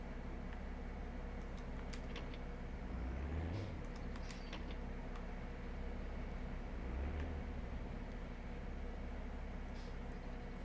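Vehicles pass in Farming Simulator 17 on a tight country road, faint low engine drones swelling twice over a steady machinery hum, with brief hissing bursts, quiet and distant.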